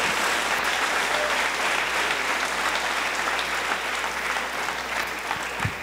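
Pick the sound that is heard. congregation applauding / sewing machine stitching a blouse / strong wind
congregation applauding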